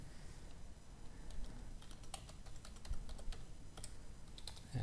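Quick bursts of key presses on a computer keyboard as a name is typed into a form field, close and crisp clicks in an irregular rhythm with no talking.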